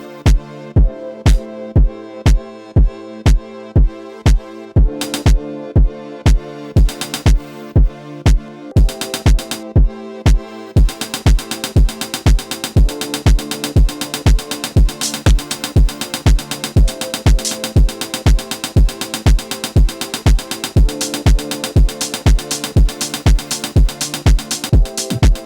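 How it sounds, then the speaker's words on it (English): Drum pattern from a Roland SP-404 MK2 sampler, a steady loop of punchy kicks and sharp hits over a sustained tone, shifting to a denser, faster groove midway; loud and up front with no talk. "Right now this is the drums that comes out of the SP."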